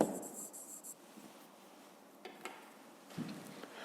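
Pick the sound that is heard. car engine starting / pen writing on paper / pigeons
pen writing on paper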